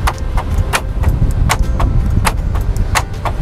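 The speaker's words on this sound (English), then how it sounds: "It's got central locking for the canopy." Central locking on a Norweld ute canopy clicking as it is worked with the keys, a series of sharp separate clacks and clunks at a close distance over a low background rumble.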